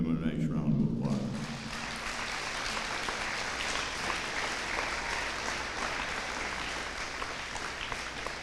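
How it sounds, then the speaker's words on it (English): Audience applause at a Veteran's Day program, a broad, steady wash of clapping that starts after a brief lower sound in the first second and keeps going for the rest of the clip. "let's give them a nice round of applause"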